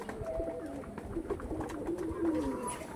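An Andhra Lambadi pigeon pair coos softly in repeated low, throaty phrases, close by, with faint background noise and some indistinct talking.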